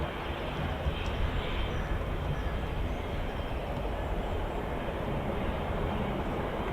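Aircraft arriving at the RAF Fairford air show, a steady broad roar of engine noise held at even loudness throughout, heard from a distance without any talk.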